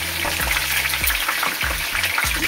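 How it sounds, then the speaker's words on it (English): Parrot fish frying in a pan, a steady close hiss of sizzling oil with soft periodic bumps from the pan. "Let it fry, because it's not moving free."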